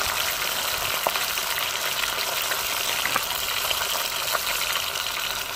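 Fish sizzles steadily in hot oil in a pan, a dense, continuous crackling frying sound up close, with a few faint clicks and no speech over it.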